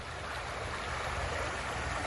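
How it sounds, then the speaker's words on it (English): A babbling brook in a peaceful park in the Smoky Mountains foothills makes a steady, broadband rush of flowing water, continuous and even, with no voices. "This is a wonderful, peaceful park, and again, the babbling brook."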